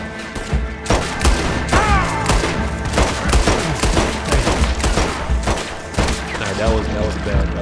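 A rapid barrage of gunshots in Red Dead Redemption 2 cracks out nearly nonstop, loud and close, with overlapping reports and echoing booms as voices talk underneath.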